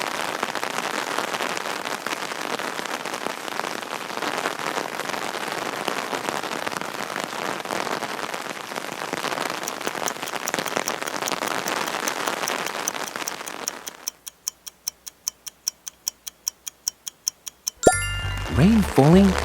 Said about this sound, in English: Rain falling on an umbrella.